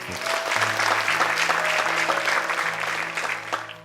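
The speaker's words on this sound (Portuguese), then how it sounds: "Dê um aplauso ao Senhor." A church congregation at a Christmas service applauds, a thick, sustained round of clapping from many people with a steady low organ or keyboard chord sounding underneath.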